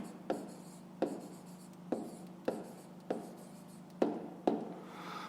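A pen scratches on paper while working a math solution by hand, eight short strokes in a loose rhythm, close and quiet with a faint steady hum beneath.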